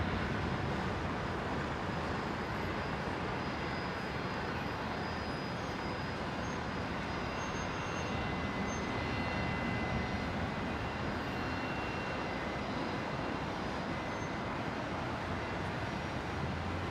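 A Qantas airliner, flight 621, departs Brisbane, its jet engines a loud, unbroken roar that holds steady throughout, with no voices.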